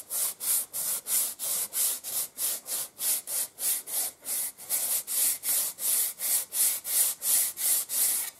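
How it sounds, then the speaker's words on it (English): Emery cloth folded over the fingers rubs up and down a wooden wing rib in steady, rapid strokes, a close, rhythmic rasping of about three strokes per second with no talk. "I've got emery here, but you can use sandpaper, medium, and just fold it round with your fingers and run up and down like this"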